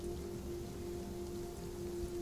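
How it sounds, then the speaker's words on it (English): Heavy rain pouring down steadily, a dense continuous hiss with a faint low hum beneath, fairly quiet and unbroken. "The rain is coming down full force now"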